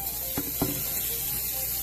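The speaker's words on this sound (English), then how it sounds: "the Irish butter, boom, is in there, getting all melty, melty. And I am going to throw some onions in there" Onions hitting melted Irish butter in a hot pan give a steady, close sizzle with a couple of short clattering bumps near the start, and no voices.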